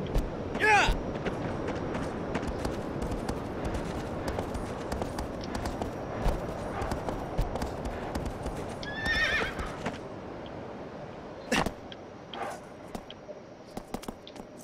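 A horse in Shadow of the Colossus trots with rapid clip-clop hooves through woodland. Two whinnies cut through the hoofbeats, and a voice talks faintly over the sound.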